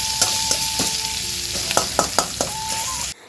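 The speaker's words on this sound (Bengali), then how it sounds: "বাটা মাছটা পেঁয়াজ দিয়ে ভাজা করছি" Bata fish frying with onions in a home kitchen, a steady close sizzle with sharp clinks and scrapes of a spatula stirring the pan, ending abruptly.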